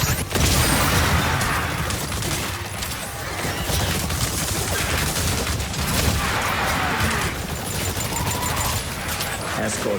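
Heavy artillery and rapid gunfire rage continuously in the video game Exoprimal, a loud, dense barrage of shots and blasts with mechanical clatter and a voice breaking in over the battle.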